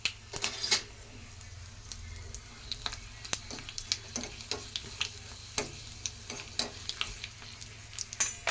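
Cumin, mustard seeds and dried red chillies crackle in hot oil for garlic rice: a low sizzle beneath frequent sharp, irregular pops and snaps, close and fairly loud, with no talking.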